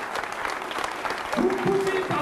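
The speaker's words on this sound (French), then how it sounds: "Vous pouvez applaudir un peu plus fort." Loud applause from an audience, continuous clapping with crowd noise and a voice rising over it.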